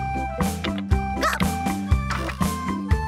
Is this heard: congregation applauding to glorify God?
no